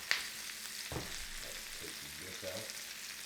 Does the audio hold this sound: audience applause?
no